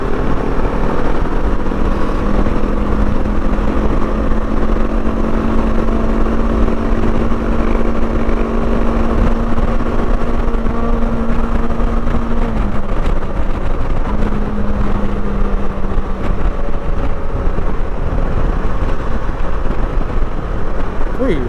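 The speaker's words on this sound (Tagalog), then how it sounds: "Lakas yung motor nila eh." Motorcycles on a group invitational ride in Ilocos Sur hum with a steady loud engine drone, pitch rising and settling as they cruise together, with wind and road noise mixed in.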